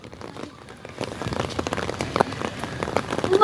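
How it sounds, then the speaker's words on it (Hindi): Rain falls on surfaces outside a home as a dense patter of ticking drops that grows heavier and louder over a few seconds. "बारिश हो रही है"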